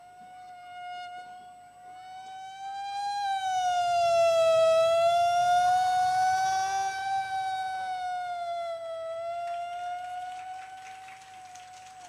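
A human voice imitates an ambulance siren passing close by, a single sustained wailing tone that rises in loudness toward the middle and then fades, performed as mimicry at a program with a faint murmur of audience underneath.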